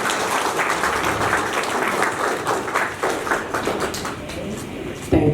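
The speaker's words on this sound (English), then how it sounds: "let's give a big round of applause for the memento" Audience applause at a conference session after a memento is unveiled, a broad sustained round of clapping from many hands, steady in strength, with a louder knock near the end.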